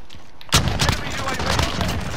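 Gunfire from an R9-0 shotgun in Call of Duty: Modern Warfare cracks as one sharp loud shot followed by busy game noise and scattered further bangs.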